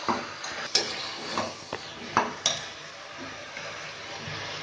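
Biryani ingredients are sautéed in a pan, with a steady soft frying hiss and several sharp spoon-on-pan scrapes and clinks at irregular intervals, close and alone.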